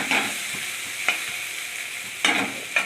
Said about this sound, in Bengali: জল না দিয়ে রসুন দিয়ে এইভাবে ভাজতে হয়